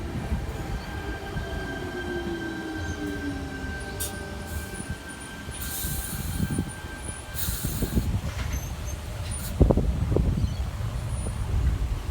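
A Sydney Tangara train runs through Mortdale station on its return trip to Cronulla, rumbling steadily with rising rail noise and wheel squeal, louder toward the end.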